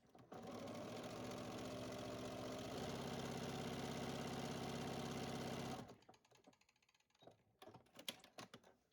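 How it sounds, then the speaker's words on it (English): Sewing machine stitching a new seam on an improv log cabin quilt, a steady rapid mechanical whir for several seconds that stops, followed by faint handling clicks and rustles. "sew a new seam."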